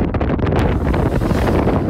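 Strong wind buffets a microphone at a lookout tower in South Tyrol, a loud continuous rushing roar with gusty surges and no talk.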